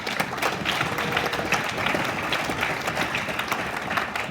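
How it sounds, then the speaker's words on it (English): A room full of people at a Vivint gathering in Las Vegas gives a lively round of applause, dense and sustained clapping at a fairly loud, even level without speech on top. "give a round of applause for Josh"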